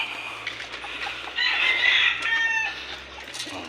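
Chickens in a backyard cluck steadily at close range, rising into a louder, drawn-out burst of calls in the middle before settling back into softer clucks.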